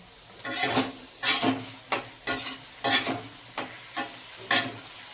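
Capsicum frying in a pan with tomato sauce for chilli chicken, stirred in about seven distinct scraping, sizzling strokes spaced roughly evenly, close and fairly loud with quiet gaps between.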